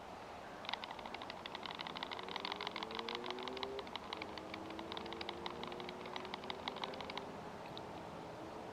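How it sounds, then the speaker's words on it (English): A military-style Tisas 1911A1 pistol is shaken close up, giving a fast, light metallic clicking rattle that runs steadily for about six seconds before stopping, with no voices. "So now let's do the rattle test."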